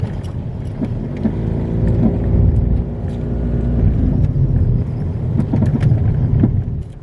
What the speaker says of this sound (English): hearing clunking or banging sounds when driving over bumps